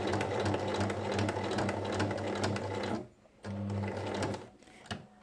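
Sewing machine stitching the seam of a lined tote bag with a pocket and two shoulder straps, a steady close motor whir with rhythmic needle pulses that pauses briefly midway, then resumes.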